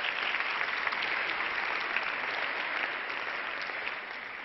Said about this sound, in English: Bisila, please, an applause for her.